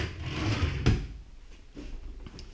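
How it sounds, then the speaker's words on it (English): A kitchen cutlery drawer in a rented apartment slides and thuds shut, with one sharp knock and a quieter second bump, heard close in a quiet room. "There you have the cutlery in these drawers."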